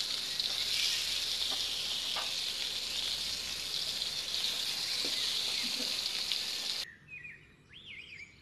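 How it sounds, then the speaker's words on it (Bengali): Rohu fish pieces coated in chili powder, turmeric and salt sizzling in hot oil, a steady loud hiss with scattered pops and crackles, cutting off abruptly to quieter background with faint bird chirps. "এখন মাছগুলো ভেজে নিব।"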